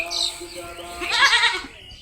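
A goat bleats twice, a short call and then a louder, longer wavering bleat, close by with no talking.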